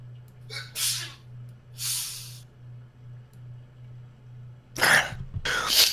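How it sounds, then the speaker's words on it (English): A sharp sneeze bursts out near the end, preceded by a few breathy inhales and sniffs over a low steady hum. "Hang on, I'm about to sneeze."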